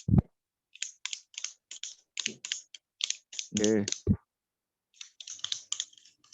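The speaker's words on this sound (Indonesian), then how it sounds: "ASMR keyboard." A computer keyboard is typed on up close in short bursts of crisp clicking keystrokes separated by silent gaps, with a brief hum-like voiced sound in the middle.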